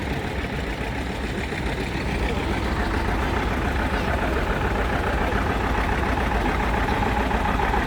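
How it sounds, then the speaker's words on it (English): A 1944 Farmall A tractor engine runs steadily in a parade at a farm show, a continuous low rumbling chug with no breaks, fairly loud and close. "1944 Farmall A, owned by the museum, driven by Ed Wolverton"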